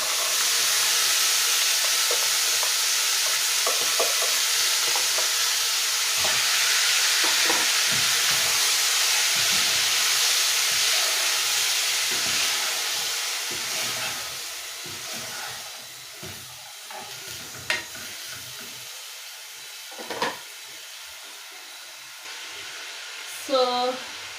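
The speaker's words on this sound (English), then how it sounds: "So we are gonna cover and let it cook for a few minutes." Beef stew with frozen peas simmering in a covered pot, a steady hissing sizzle with occasional clinks and bubbling pops, fading quieter toward the end.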